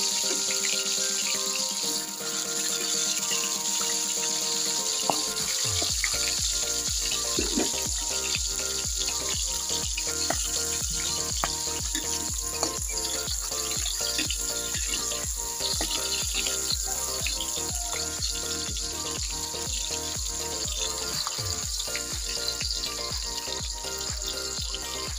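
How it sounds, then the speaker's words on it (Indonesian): Spices sizzle and crackle in a hot pan while preparing grilled patin fish with coconut milk, a dense continuous frying hiss with steady crackling throughout, heard close and alone. "Langkah pertama kita goreng dulu bumbunya"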